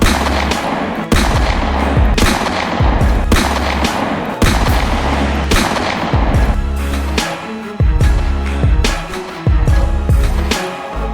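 Rapid bursts of gunfire punctuated by heavy booming explosions as a ship is torn apart by successive blasts, loud and close, with repeated blasts roughly every second or two and no voices.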